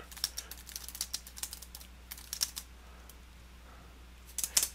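Sharp, irregular key clicks on a computer keyboard while a Cisco router command is entered, in short quiet bursts with a brief pause before a final flurry, over faint hum.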